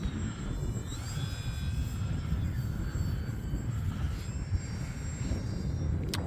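A Flex Innovations QQ Yak 55 RC airplane flies in wind, its engine drone and tonal whine rising and shifting as it passes, with steady broadband wind noise throughout.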